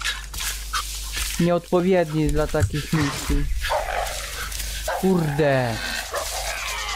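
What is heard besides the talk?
dog barking in the video game Far Cry 5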